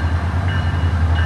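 A Florida SunRail commuter train rolls past with a loud, steady low rumble and rail hum over a brief moment.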